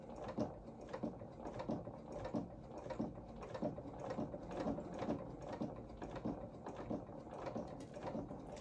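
Sewing machine running a steady stitch along the side seam of small coveralls for a Luna Lapin doll outfit, a close, even mechanical chatter with a regular rapid rhythm throughout, no talking.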